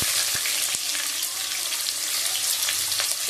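Chopped onion frying in hot oil for a goat meat curry, a steady bright sizzle close by with a couple of small clinks of a utensil early on, no voices.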